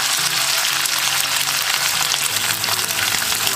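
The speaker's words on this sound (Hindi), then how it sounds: "तेल हमारा गर्म हो गया, अब हम इसमें जीरा डाल देंगे। जीरा डालने के साथ साथ हम इसके अंदर हम आलू डाल देंगे" Cumin seeds and potatoes drop into hot frying oil in a pan, giving a loud, continuous close-up sizzle and crackle throughout.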